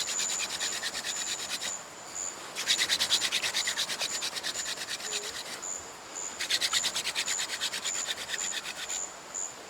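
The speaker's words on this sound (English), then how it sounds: "When I drill, a powder will collect and that will eventually start to glow." Wooden fire drill spun hard against a hearth board at a rainforest jungle camp, making a dry, rapid rubbing rasp in bursts of fast strokes with short pauses between, close and steady, with no talk.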